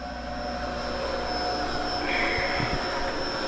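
An oil centrifuge spins slowly while reconditioning used gear oil, giving a continuous whirring hum with steady tones, close and fairly loud, with a few faint knocks near the end.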